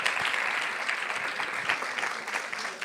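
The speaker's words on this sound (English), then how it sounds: "big applause for Jakub Brdulak" Big round of audience applause at a European conference on joint and double degree programmes, many hands clapping at once in a sustained, even roar that holds from start to finish.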